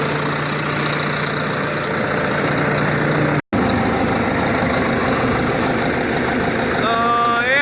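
A Caterpillar D7E bulldozer engine runs steadily and loudly up close, a continuous mechanical drone with a brief dropout partway through and a rising whine near the end.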